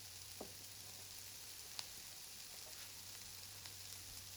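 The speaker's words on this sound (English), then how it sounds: "Now we're going to allow this to cook for probably about 2 to 3 minutes and allow those vegetables to get a nice color on them." Chopped vegetables sizzle faintly in a pot for seafood and sausage jambalaya, a soft steady frying hiss with a few light clicks and stirring taps, no talking.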